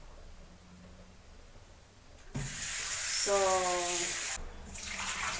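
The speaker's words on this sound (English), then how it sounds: "we put cold water because we want to stop the cooking" Cold water pours from a tap over drained cooked carrots in a kitchen, a steady rush that starts abruptly partway through, briefly stops, and then resumes, with a short spoken word near the start.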